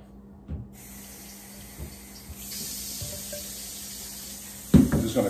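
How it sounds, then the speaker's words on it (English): Tap water runs steadily into a stockpot holding leaves and celery, a continuous hiss that rises in level partway through, with a few clinks and knocks of the pot near the end. "then we're gonna fill this up with water"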